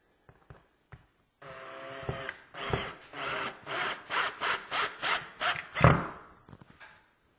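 Drill driving a fastener through a wooden rail cap into a stud, a few quick taps first, then a rapid run of bursts that tighten and whir, ending in a sharp final bite, close and without talk.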